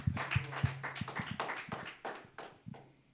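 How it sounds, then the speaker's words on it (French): A church congregation at a Bible study claps for Jesus, sharp hand claps landing in a quick, uneven rhythm over a low steady hum, some claps louder and closer than others. "Can we clap for Jesus?"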